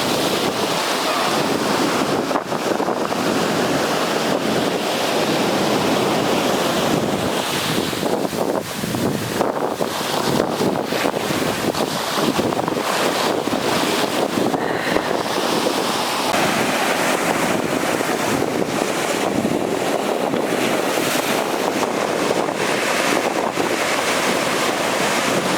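Ocean surf breaking and rolling near a surfer riding a wave, a steady broad wash of water with wind buffeting the microphone throughout, loud and continuous with no talk.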